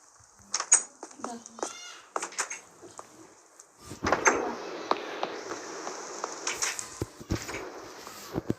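A door opens in the Hello Neighbor video game, with creaks, knocks and thumps scattered over several seconds, while a voice talks intermittently in the foreground.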